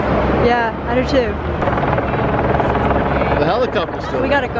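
Over San Francisco, a helicopter flies nearby with a loud, steady rotor drone that rises and falls slightly, under people talking.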